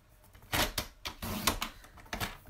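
A 1.5 inch paper panel being cut for a handmade card gives several brisk, close swishing and scraping bursts in an uneven rhythm, with no voices.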